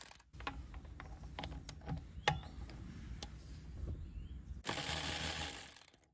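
A cordless ratchet from a Temu versus Lidl comparison runs under load during a torque test, producing a steady close mechanical whir and clicking. The sound shifts to a brighter, harsher grind near the end.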